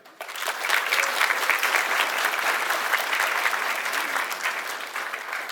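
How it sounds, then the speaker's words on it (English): Students applaud their support staff at a school gathering: dense, even crowd clapping that swells in after a brief quiet start and holds steady to the end. "Students, if we can we give a big round of applause to our support structure?"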